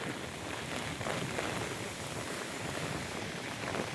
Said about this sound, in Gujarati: વરસાદ બહુ પડ્યો હો।